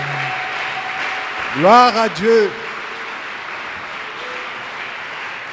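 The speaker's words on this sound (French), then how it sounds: "Est-ce que nous pouvons encore applaudir très fort le Seigneur des Seigneurs?" A church congregation applauds at a French-speaking service, a soft, continuous patter of clapping in the background while a voice calls out a brief praise over it.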